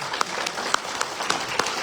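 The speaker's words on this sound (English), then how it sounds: "maybe even a round of applause for the fact that so many people came together." A few scattered hand claps ring out at an Osage News candidates' debate for Assistant Principal Chief, a handful of distinct sharp slaps spaced unevenly over a low room murmur rather than a full ovation.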